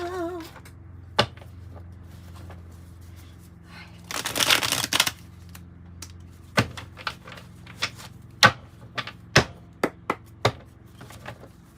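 Tarot cards are shuffled close by in a quiet room, with a short burst of riffling in the middle and a scatter of light taps and card snaps before and after it.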